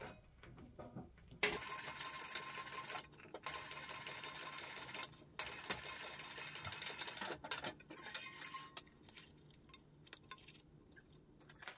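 A sewing machine top stitches the gusset of a crossbody bag, running in steady fast bursts of needle chatter broken by brief pauses, close and clear with no talk.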